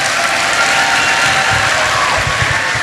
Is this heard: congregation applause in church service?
yes